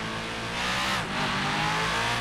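Engine of an LS-swapped Mustang street car of about 650 horsepower in GTA 5, revving hard as it accelerates, loud and continuous with a brief dip in pitch around a gear change.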